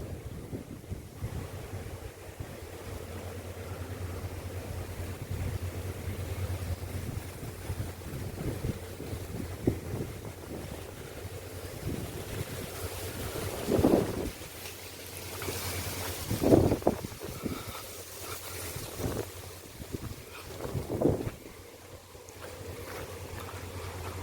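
Wind sweeps across a 22-acre open farm plot with drip-irrigated fields and wind turbines nearby, making a steady, low rumbling roar that swells into stronger gusts midway, with no voices.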